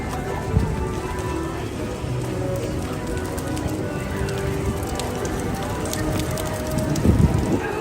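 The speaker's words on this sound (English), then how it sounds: "All right, back in the rain, guys." Steady rain falls and patters on surfaces at Disney World's Magic Kingdom ahead of a hurricane, a continuous close hiss with faint background voices mixed in.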